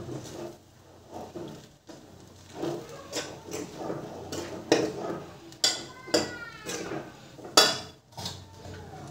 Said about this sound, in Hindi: अब इसे अच्छी तरह से मिक्स कर लेते हैं।